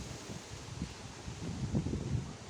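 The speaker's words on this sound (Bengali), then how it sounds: "এই যে দেখো খুব হাওয়া হচ্ছে, এখানে ঝিরিঝিরি বৃষ্টিও পড়ছে।" Wind gusts outdoors under a cloudy sky with light drizzle, a low, steady rush that swells louder in the second half, with faint rustling and no talk.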